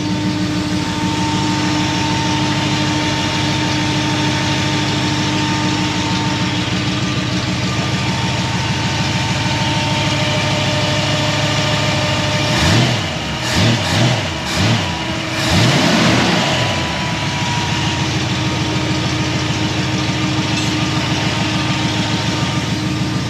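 A Ford Mustang engine with a newly fitted carburetor idles steadily and loudly, then gives a few short throttle blips around the middle before settling back to a rumbling idle.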